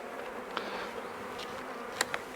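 Honey bees hum steadily around an opened poly nuc hive during a mite treatment, a close continuous buzz with a few brief sharp knocks.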